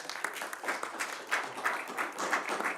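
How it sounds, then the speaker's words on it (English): Applause from the audience at a city council meeting, many hands clapping in an irregular patter that swells and dips, moderately loud and heard alone without talk. "give a nice round of applause for each of the people here"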